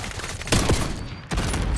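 Gunfire in the video game Call of Duty Black Ops 6, two loud, close bursts of rapid shots separated by a short lull, with no speech.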